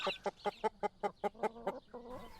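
Hens clucking in a farmyard flock: a steady run of about nine sharp, evenly spaced clucks, moderately close, fading into a softer drawn-out call at the end.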